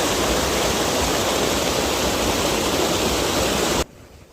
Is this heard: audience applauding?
no